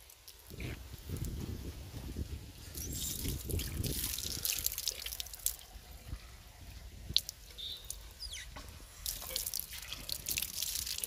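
Water flows from a hand pump with a steady, close splashing and trickling that runs throughout, with occasional drips and knocks and no talking.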